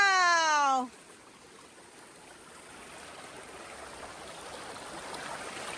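A river stream flows with a steady broadband rushing and trickling wash, close and continuous, after a brief tonal chirp at the very start.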